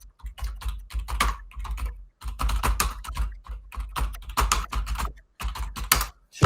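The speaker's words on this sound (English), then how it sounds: "I'm just going to type in" Close, quick keystrokes on a computer keyboard tap out a search in several rapid bursts separated by short pauses, with no talking.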